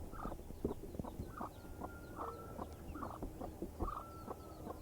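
A hen clucks repeatedly at close range, with short rhythmic calls over a continuous low background hum and no talking.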